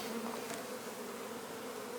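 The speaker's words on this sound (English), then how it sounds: "I'm going to spray those bees down a little bit, just to get them out of the way." Honey bees buzz steadily at a hive during burr comb removal in Newfoundland, a dense, close, continuous drone with no voices over it.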